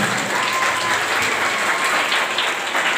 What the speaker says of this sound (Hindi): उनका भी एक बार जोरदार तालियों से स्वागत करें